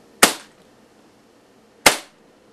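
Two sharp shots from an ASG CZ P-09 Duty CO2 airsoft pistol, each a crisp loud crack with a brief decay, spaced about a second and a half apart in a quiet setting.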